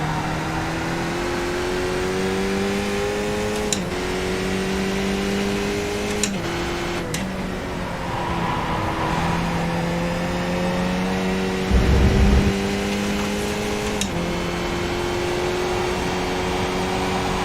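A race car in a sim racing game laps Zandvoort. The engine note climbs steadily in pitch through each gear, then drops sharply at every shift, with one brief low thump partway through and no talking.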